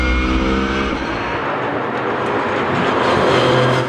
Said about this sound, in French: Tous les concurrents se sont élancés sans encombre à l'assaut de cette superbe piste de Dijon-Prenois.